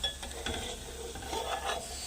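Dry prawns fry in oil with turmeric while a spoon stirs and scrapes the pan, giving a soft, steady sizzle with faint clinks, fairly quiet and without talk.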